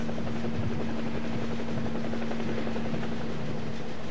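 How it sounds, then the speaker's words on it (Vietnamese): Military helicopter in flight during the April 1975 evacuation of Saigon, South Vietnam, a steady rotor drone with a constant hum, loud and close throughout. "Act of disobedience, and so I got on the chopper and came out."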